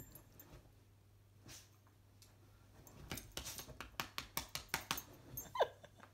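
A black dog at home gives a run of short, evenly spaced yips or barks that build in the second half, close and moderately loud against a quiet room.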